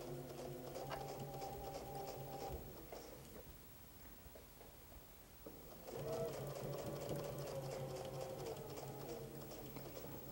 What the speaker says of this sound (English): Start sewing on an anchor cloth.